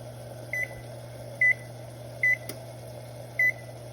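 A kitchen oven timer being set for another 20 minutes, giving four short electronic beeps at uneven intervals over a steady low appliance hum.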